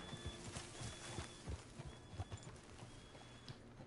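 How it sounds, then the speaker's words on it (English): Horse hooves clip-clop at a steady walking pace in the Red Dead Redemption 2 video game, a run of soft, evenly spaced thuds over a low ambient background. "That's quite a horse you got."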